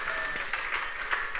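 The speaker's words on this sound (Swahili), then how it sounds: "Mpigie makofi." A church congregation claps together during a worship service, a fairly soft, steady patter of many hands sustained throughout with a faint background murmur.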